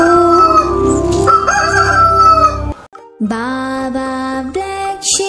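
A rooster crows cock-a-doodle-doo in an animal sounds song for children, a loud close call that breaks off briefly, then a second drawn-out crow follows, set against music.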